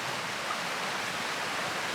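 A mountain river in the Sierra Nevada of Spain rushes steadily nearby, a dense, even wash of flowing water with no other sounds.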